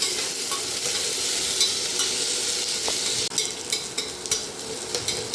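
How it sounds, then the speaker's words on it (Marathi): Onions sautéed in a pan for veg matar pulao give a steady close sizzle, with spatula scrapes and stirring clatters scattered through and no talking. "कांदा चांगला भाजीपर्यंत आपण हे परतून घेणार आहोत"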